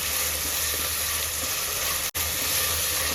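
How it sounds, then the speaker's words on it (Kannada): Garlic and onions fry in a pan for a chicken curry, giving a steady, close sizzle and hiss with one brief dropout and no talking. "ಈಗ ಬೆಳ್ಳುಳ್ಳಿ ಈರುಳ್ಳಿ 2 ಫ್ರೈ ಆಗ್ತಾ ಇದೆ."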